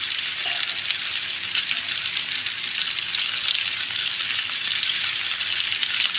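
Chili chicken with onions and capsicum fries in a pan, a loud, continuous close-up sizzle.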